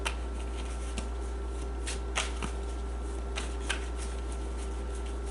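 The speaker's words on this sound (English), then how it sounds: "I'm going to pull another oracle card." Oracle cards being shuffled and drawn during a tarot reading, giving soft papery riffles and a few sharper card snaps scattered over a steady low hum, close and fairly quiet.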